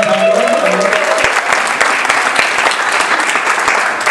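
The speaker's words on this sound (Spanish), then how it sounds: "Un aplauso para el hermano." A church congregation applauds in a dense, steady burst of clapping that fills the room, with a brief voice audible at the start.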